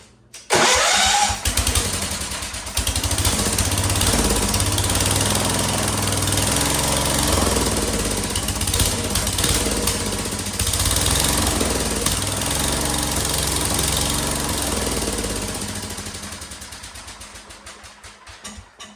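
A Wheel Horse C-160 lawn tractor engine, still faulty after a carburetor cleaning, catches about a second in and then runs loud and steady with a rough, uneven note before trailing off near the end. No one speaks.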